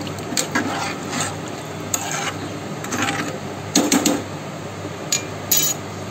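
A spoon stirs and scrapes through rice kheer ingredients in a metal cooker pot, with soft rubbing strokes and a few sharper clinks against the rim, close and alone.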